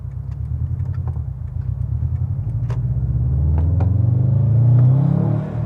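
Subaru STI with a Sprint Booster throttle upgrade in intelligent mode, its engine rumbling loud and close from the cabin, then revving up and accelerating with rising pitch before easing off at the end.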